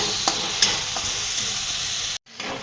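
Cluster bean curry with masala being stirred and fried in a pan, a steady close sizzle with a few scraping stir strokes, briefly cut to silence near the end before resuming.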